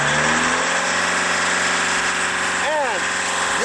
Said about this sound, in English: You start the engine, okay? When you're ready, you go up with the RPM